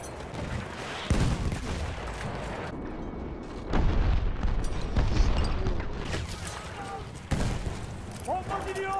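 Mortar explosions in a Battlefield war game: repeated heavy booms and blasts with rumbling battle noise between them, fairly close and loud, while someone talks over the barrage.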